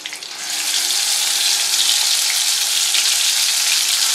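Green chillies and leaves sizzle in hot oil in a pan while prawn biryani is being cooked, a steady, loud and close frying hiss that holds on without a break.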